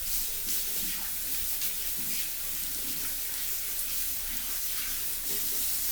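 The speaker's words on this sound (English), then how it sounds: "Let me wash those hands." A kitchen tap runs steadily while hands are washed under it, a continuous broad hiss of water with some splashing and clatter, loud and close, without talking.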